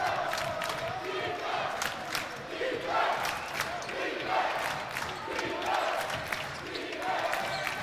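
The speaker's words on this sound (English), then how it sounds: "Defense chants ring out from the crowd." The crowd at a college basketball game between Yeshiva and Farmingdale State chants defense in a rhythmic, repeated call that rises and falls over a steady hum of the arena, with occasional ball bounces.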